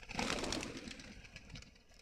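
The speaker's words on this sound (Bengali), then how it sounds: "অনেকদিন পর কবুতরটি ছাড়লাম।" Pigeon cooing near a small loft, a few soft coos and rustling over steady outdoor background, with no speech.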